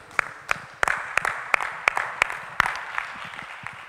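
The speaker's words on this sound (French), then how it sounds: "Nous acclamons notre Dieu." Church congregation clapping in acclamation of God during a worship service, a series of sharp separate claps in loose rhythm over a murmur of voices, fairly near.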